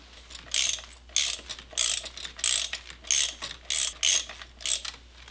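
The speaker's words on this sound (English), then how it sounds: "we're going to undo the one bolt we have left on the fuel block and try to reposition it just slightly" Ratchet wrench loosening a fuel block bolt on an Audi B7 RS4 engine, about eight quick bursts of clicking in an even rhythm, close and clear with no talk.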